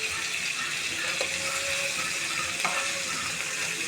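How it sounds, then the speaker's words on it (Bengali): Broiler chicken pieces that have just been turned keep frying in hot oil in a pan, a close, continuous sizzle with a couple of brief knocks from the turning. "এই পর্যায়ে মুরগিগুলো উল্টে দিচ্ছি।"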